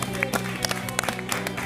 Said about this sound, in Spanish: Un aplauso para Cindy, que lo dio todo.